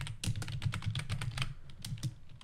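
Fast, steady clatter of keys on a computer keyboard as a tweet is typed, close and fairly quiet, with no voices.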